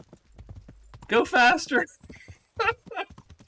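A horse gallops in the medieval video game Kingdom Come Deliverance, its rhythmic hoof clops steady beneath a man's loud, excited shouting.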